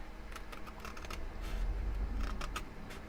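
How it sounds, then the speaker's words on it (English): Scissors snip lightly along the edge of a sheet of paper in a string of faint, soft, close clicks and rustles, with no voices. "I'm just going to barely cut along the edge here"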